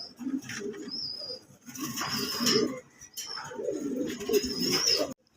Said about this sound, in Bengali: এখানে এক পেয়ার ঝর্ণা শাটিন কবুতর দেখাচ্ছি